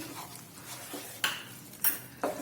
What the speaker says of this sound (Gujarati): બધું જ આપણે સારી રીતે મિક્સ કરીશું.